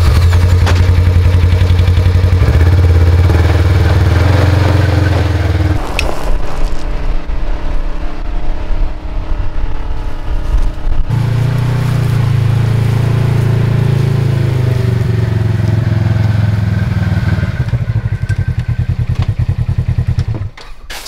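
A Razor UTV rock crawling: the engine revs and idles in uneven surges, with loud low drone, sudden drops and clunks and clatter as the machine lurches over rocks, close to the microphone.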